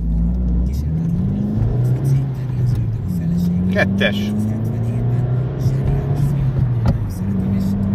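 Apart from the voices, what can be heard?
Opel Astra GTC engine revving through Sebring rear exhaust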